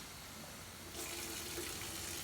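Water is poured into a drinking glass, a soft, steady pouring rush that begins partway through over quiet kitchen background, close and moderately faint.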